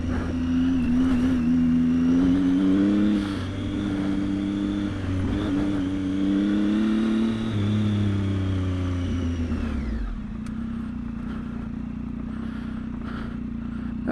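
A Triumph Tiger 800 XCA motorcycle rides at moderate speed down a green lane, its engine note rising and falling with throttle before easing back to a lower, steadier hum, with wind noise throughout.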